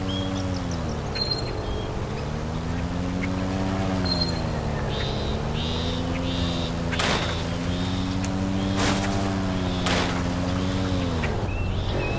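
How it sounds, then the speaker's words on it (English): Airboat driven through a swamp in the Duck Dynasty video game on PS4: a steady droning engine hum that rises and falls as it travels, with occasional sharp knocks and bird calls over the top. "John Luke, this is another rite of passage in being a Robertson, driving your first airboat."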